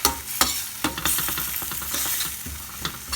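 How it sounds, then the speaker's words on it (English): Mushroom curry with button mushrooms in coconut cream, freshly dosed with garam masala and turmeric, is stirred in a hot pan: repeated scraping strokes of a spoon over a steady close sizzle, with no voices. "2 teaspoons of garam masala, give it a mix"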